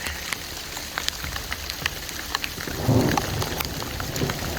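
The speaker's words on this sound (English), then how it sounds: "It's hailing on us." Hail pelting down during a mountain hailstorm at Rocky Sea Pass on the Uinta Highline Trail: a dense, steady hiss of pattering ice with scattered sharp ticks, swelling louder and heavier partway through, with no talking.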